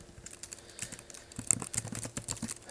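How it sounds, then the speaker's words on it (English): Quick, irregular clicking of keys on a computer keyboard, fairly close and moderately loud, tapping in short bursts with no talking. "let me go ahead and type that in"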